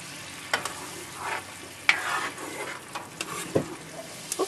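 Egg fries with bitter melon in a pan for a Filipino ampalaya sauté, a steady sizzle under clinks and scrapes of stirring, close and moderately loud, with no speech.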